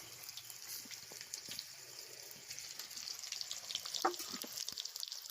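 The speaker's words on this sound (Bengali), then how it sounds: "রাতে করছি তো তো আলুগুলোকে আমি ভেজে নিচ্ছি" Potatoes for chicken biryani fry in oil in a home village kitchen at night, a soft steady sizzle with faint crackles and a brief louder pop, fairly quiet throughout.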